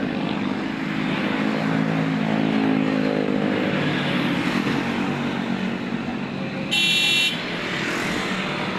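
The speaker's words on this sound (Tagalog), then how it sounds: "nandito ako sa may highway ng Mikawayan guys" Highway traffic in Meycauayan, Bulacan gives a loud, continuous roar of passing vehicles with engine drone throughout and a short honk of a car horn near the end, close by.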